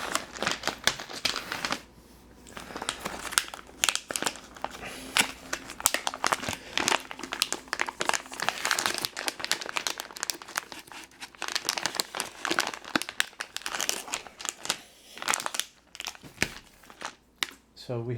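Plastic packaging crinkles and crackles continuously as a bulk pound of Chessex dice is unwrapped by hand, with irregular rustling bursts while people talk.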